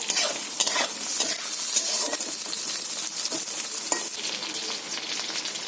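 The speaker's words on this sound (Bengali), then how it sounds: "তো বেগুনগুলো দিয়ে দেবো তেলের মধ্যে বন্ধুরা" Brinjal pieces fry in hot oil in a kadai with a loud, continuous sizzle, broken by repeated scraping clicks of a spatula stirring against the metal.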